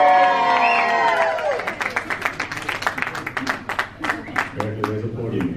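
A crowd in a room at an election-eve gathering cheers and claps, with loud whoops at the start and then dense, uneven applause, ending with a voice over the clapping.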